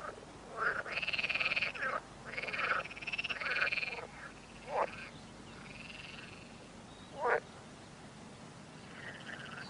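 Frogs croaking in wet reedy ground, loud rattling calls in two long bursts followed by a few shorter single croaks, close and clear over a quiet background with no talking.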